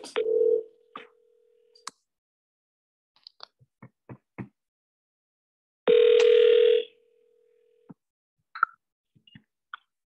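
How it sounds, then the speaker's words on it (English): A telephone rings out on an outgoing call: two steady, medium-pitched ringback tones separated by a long pause, with scattered small clicks between them and no talking. "So let's dial him."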